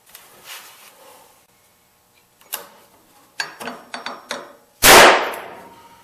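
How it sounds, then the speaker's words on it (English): A Ramset powder-actuated nailer struck with a hammer sounds off as several sharp taps and clanks, then one loud gunshot-like blast with a short ringing decay, close up and without talk. "I got my Ramset, I got my hammer, and time for the first run at it."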